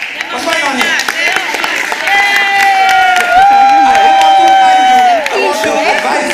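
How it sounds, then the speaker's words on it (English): Audience at a primary school elocution competition final claps and cheers in a dense, continuous burst of applause with whoops and a lingering whistle-like tone, crowd chatter mixed in. "Clapping."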